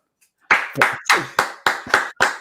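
A sound-effect run of hand claps on a streaming platform, six or seven sharp, close claps at a steady, slightly uneven rhythm, alone with no talk.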